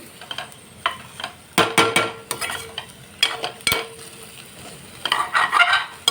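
Green beans fry in oil in a pan and are stirred with a utensil, giving bursts of scraping and clattering over a soft sizzle, uneven in rhythm and close by.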